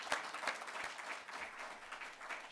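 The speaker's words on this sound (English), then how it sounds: "Let's give her a round of applause" Audience at a national reparations convention hall gives a round of applause, steady clapping from many hands sounding somewhat distant and moderate in loudness.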